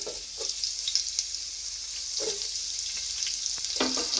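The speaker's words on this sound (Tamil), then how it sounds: "ஹீட் ஆனதும் இப்போ ஒரு வெங்காயம், நல்ல பெரிய வெங்காயமாக ஒரு வெங்காயம், அதை இப்போ இதில் போட்டுக்கலாம்." A large onion fries in hot oil for Arabic mandi biryani, giving a loud, continuous sizzle up close, broken by a few stirring scrapes and clinks, with no talking.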